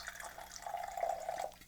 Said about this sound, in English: Now we're gonna see how well I can pour 2 ounces into this.